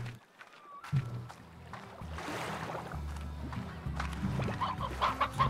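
Hens cluck in the Slime Rancher video game, a few soft calls over a steady background of game music and ambient hum, with a burst of clucking near the end.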